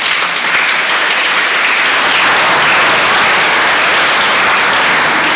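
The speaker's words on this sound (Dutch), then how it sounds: "Applaus." Steady, dense applause from a church audience in a Protestant church in Rotterdam, continuous and loud from start to finish, with no talk over it.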